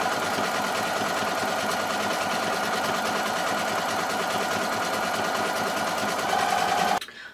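A sewing machine stitches around the edge of a quilted fabric postcard, a fast, steady mechanical whirr running close and loud before cutting off abruptly near the end.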